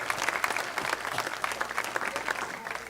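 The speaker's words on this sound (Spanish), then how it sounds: "Den un aplauso al Señor." A church congregation applauds during a Sunday service, a continuous crowd of hands clapping at an even, moderately loud level throughout, with no talking on top.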